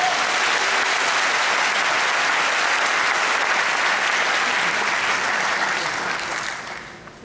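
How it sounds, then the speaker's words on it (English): A large keynote audience at Computex 2012 applauds in a dense, continuous roar of clapping that stays loud and full before tapering off over the final second. "Please give yourself a big round of applause"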